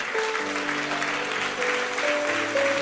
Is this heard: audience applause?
yes